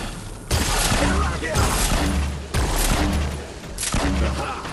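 Fortnite rocket launcher blasts go off in loud repeated bursts, roughly one every second or so, each a dense explosive roar, with voices talking underneath.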